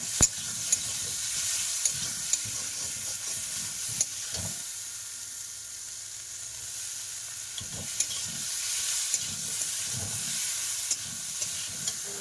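Prawns, potato and pointed gourd curry sauté in a pan, a low continuous sizzle with faint stirring scrapes and occasional small clicks, close but fairly quiet, no voices.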